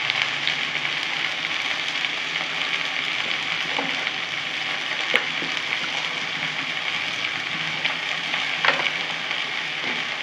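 Jute leaves frying in a pan with salt and turmeric, giving a steady, dense sizzle that crackles throughout at an even loudness, close up and with no talking.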